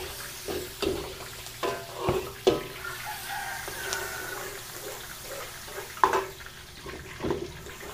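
Chopped onions sizzling as they go into a hot pan for a Filipino beef, fish, chicken and pork dish, a soft steady frying hiss broken by scattered clinks and stirring knocks, fairly quiet.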